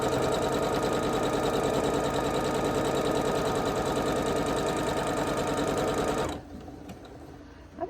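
A sewing machine stitches a quilt block with a quarter-inch seam, running steadily and close for about six seconds before stopping abruptly, leaving quiet room noise.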